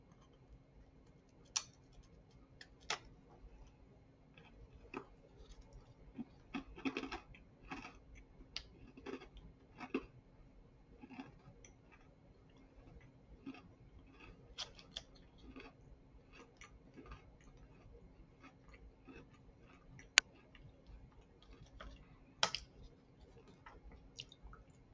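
Crisp crunching bites into a very firm Tsuki no Ame sweet egg cracker with cream filling, followed by scattered close, quiet chewing clicks and crackles spread through a long stretch with no talk.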